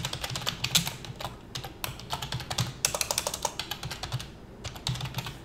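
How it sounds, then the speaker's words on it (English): Rapid, close clatter of keys on a computer keyboard as someone types commands, irregular bursts of keystrokes running steadily with no talking. "And we'll type in notepad"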